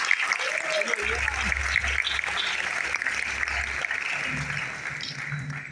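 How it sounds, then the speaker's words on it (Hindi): Audience applause at a Hindi business-plan presentation, a steady dense wash of clapping running the full length, with a voice over it near the start and a low hum underneath. "बेहतरीन तालियां आप सबके लिए होनी चाहिए"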